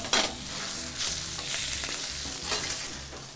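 Beef cheek sears in a hot pan, a steady, dense sizzle with stirring that scrapes in at intervals, with no voices.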